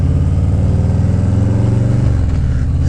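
A 2017 motorcycle engine runs close and loud with a steady mid-pitched drone, then its tone shifts and drops near the end as it begins pulling away.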